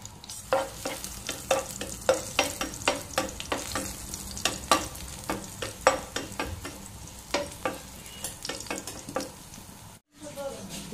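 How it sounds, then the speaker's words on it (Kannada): Garlic fries in oil in a pan with a steady crackling sizzle and rapid, rhythmic spatula scrapes and clicks throughout, briefly cutting out near the end. "ಅದಕ್ಕೆ ಸ್ವಲ್ಪ ಬೆಳ್ಳುಳ್ಳಿಯನ್ನು ಹಾಕಿ ಫ್ರೈ ಮಾಡ್ತೇನೆ."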